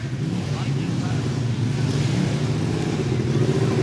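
Racing lawn mowers (grass hogs) roaring around a track at about 40 mph, a continuous loud engine drone from several machines with wind noise, steady throughout.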